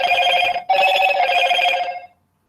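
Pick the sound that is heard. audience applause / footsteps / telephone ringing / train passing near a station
telephone ringing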